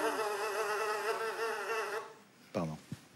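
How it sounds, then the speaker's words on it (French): A housefly buzzes on a television studio set, a close, continuous whining drone lasting about two seconds before it cuts off, followed by a couple of brief vocal sounds. "Jérôme, on entend un bruit de mouche sur le plateau."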